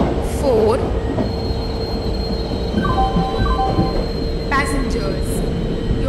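In the Indian Train Simulator game, an express train on the Mumbai Central–Chennai Central route pulls into a station platform with a constant heavy rumble, squealing wheels and a few chiming tones over the noise.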